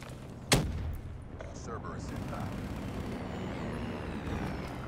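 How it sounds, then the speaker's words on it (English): A single sharp sniper rifle shot cracks out early in a first-person shooter match, a loud close report that decays into a rumbling game soundscape with muffled background effects. "Oh my god, a sniper shot."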